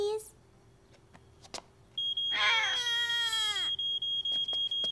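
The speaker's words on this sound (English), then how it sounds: "let's listen to the alarm again to recognize it" A cartoon fire alarm sounds with a steady, piercing high-pitched electronic tone pulsing in short regular bursts, and a shrill cartoon voice wails over its start.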